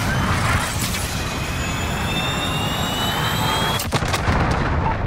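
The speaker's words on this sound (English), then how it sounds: "Missile away." A missile launching in a military shooter game: a sustained, loud roar with a sharp whoosh and crack near the end, set against continuous battlefield rumble.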